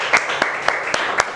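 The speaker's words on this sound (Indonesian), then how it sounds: "Oke, kita kasih tepuk tangan kepada kelompok 1." Applause for a student group in a classroom: a short burst of scattered hand claps, a few distinct sharp claps over a wash of noise, close and fairly loud.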